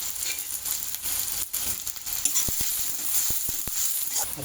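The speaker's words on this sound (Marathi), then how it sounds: "व्यवस्थित फ्राय करून घेऊया ते" Chopped onions and green chillies for pav bhaji fry in a pan with a soft steady sizzle, punctuated by several quick sharp clicks of a spoon against the pan partway through.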